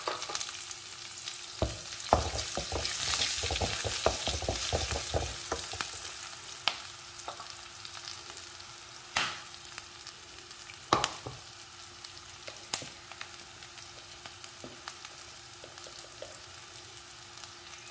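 Green chillies split lengthwise and crushed chilli sizzling in a hot pan for a Kasaragod-style long bean stir-fry, with a steady frying hiss broken by stirring clatters and scrapes, busiest early and then settling into a quieter sizzle.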